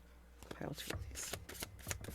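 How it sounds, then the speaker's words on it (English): Tarot cards shuffled by hand in a quick series of crisp riffling bursts and soft slaps, close and fairly quiet, with a little talk between them. "Let me shuffle."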